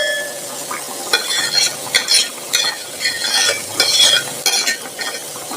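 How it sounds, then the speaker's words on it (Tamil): Fish curry made with murrel fish boils in a pot, giving a steady bubbling sizzle with scattered clinks and stirring sounds, close and fairly loud throughout, with no talking. "பாத்தீங்கன்னா மீன்குழம்பு கொதிச்சு வேற லெவல்ல இருக்கு"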